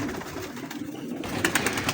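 Pigeons, including a bataira pigeon, give low throaty coos in a steady rolling drone with a few brief sharper notes near the end, close by and without talk.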